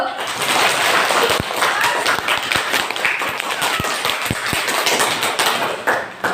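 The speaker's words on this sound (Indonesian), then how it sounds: "Terima kasih tepuk tangan Mas Galo." A small group claps in a classroom-style setting, a loose patter of handclaps with sharp individual taps standing out over a steady, fairly loud wash, and some voices mixed underneath.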